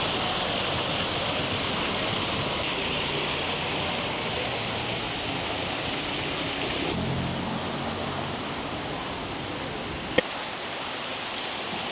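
Running water from a temple water feature pours steadily, a dense broadband rush heard close and continuous, with a brief sharp knock near the end.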